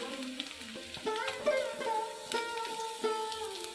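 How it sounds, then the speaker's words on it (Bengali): Potatoes, ridge gourd and pointed gourd with jackfruit seeds are frying and being stirred in a pan, giving a close, continuous sizzle broken by soft scraping stirs. "দিয়ে ভালো করে আমি এগুলোকে ভেজে নেব"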